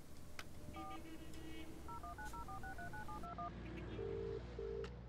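A telephone number is dialed in the video game Baphomets Fluch 3, a quick run of about a dozen DTMF keypad tones in irregular rhythm over a steady low background, followed by a couple of longer tones.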